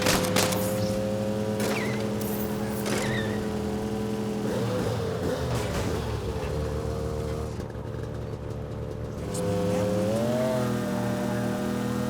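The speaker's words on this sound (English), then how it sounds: "This bike actually does sound louder than the others." A video game motorcycle engine in Saints Row drones steadily and loudly, its pitch shifting slightly before rising in a short rev toward the end.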